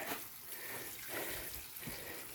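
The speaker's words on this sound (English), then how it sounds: "these plants definitely need the water, so let's start filling them up, or watering them" Water runs steadily from a tap to fill containers for watering plants at a dacha garden in Khabarovsk, Russia, a continuous hiss and splash that holds at an even, moderate level with no talk.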